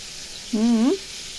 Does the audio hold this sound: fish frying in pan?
yes